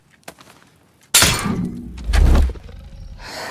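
In the 2017 horror comedy film The Babysitter, a tarantula hits a rat trap, setting off a sudden loud snap and clatter followed by a rumbling, rattling tail of noise.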